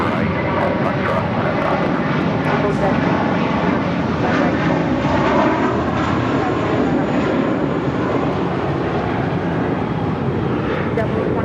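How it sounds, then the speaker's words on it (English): A United Dreamliner jet airliner lands at LAX, arriving from Newark, as a steady, loud broadband roar that fills the whole stretch, with a voice heard over it. "we just had a United Dreamliner touching down, coming in from Newark"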